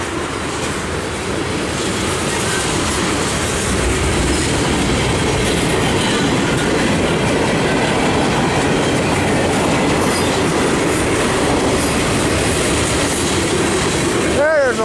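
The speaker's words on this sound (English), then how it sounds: "Old box train I just went by." A long freight train rumbles steadily past nearby, a continuous roar of rolling cars with faint wheel clatter and a brief squeal near the end.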